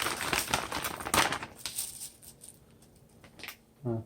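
Dry long fusilli pasta snaps and crackles in quick irregular clusters as it is broken in half by hand, close and fairly quiet, followed by a short clatter at the end.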